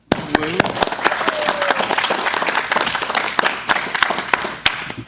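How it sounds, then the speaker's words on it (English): Conference session audience applauding, a dense steady burst of many hands clapping, loud and close, with a few brief voices under it. "So let's give a round of applause for that."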